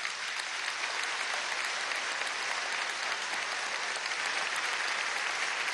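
Dense, steady applause from a large crowd at a commemorative tribute event, continuous and even throughout with no speech breaking through.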